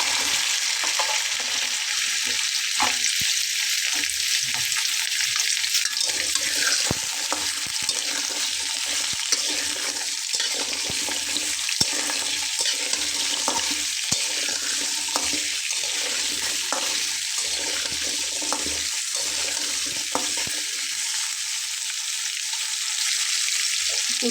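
Pieces of taro root (arbi) sizzle steadily in hot oil in a frying pan while cooking a vegetable curry with dried fish, a loud continuous frying hiss with scattered crackles and occasional stirring clatter throughout, no talking.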